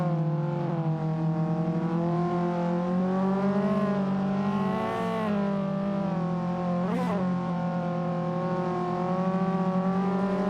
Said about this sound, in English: You can hear him clutch kick on a lot of these, trying to make sure the RPMs are going up.